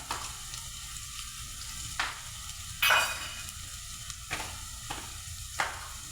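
Garlic frying in a pan until browned gives a steady, close sizzle, broken by a few sharp bursts and scrapes as it is stirred.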